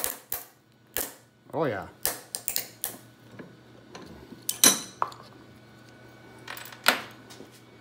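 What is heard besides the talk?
plastic curling iron housing being broken apart in a vise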